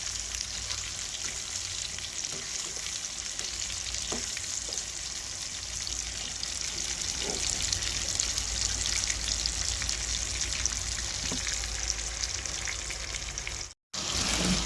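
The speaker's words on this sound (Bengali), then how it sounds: "লঙ্কা আর রসুনগুলো। ভালো করে আমি এগুলো ভেজে নেব।" Mango pieces, green chillies and garlic fry in hot oil in a pan, giving a continuous, even sizzle with faint scraping stirs, close up and without talk.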